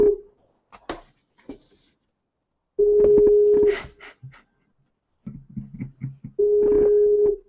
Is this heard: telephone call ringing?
yes